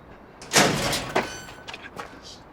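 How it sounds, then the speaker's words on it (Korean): Knocking on the door of a lodging in a Korean TV drama scene: a loud, heavy bang on the door comes first, then a few smaller raps and thuds that fade away. "곧장 숙소 문을 두드리는데"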